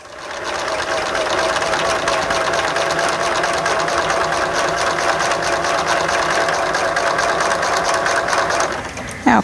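Sewing machine stitching along a line on a star quilt block, a loud, close, continuous whir held steady for several seconds before stopping.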